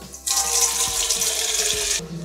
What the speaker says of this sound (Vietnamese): Mình sẽ xả nước vào trong cái thao nước này nhé.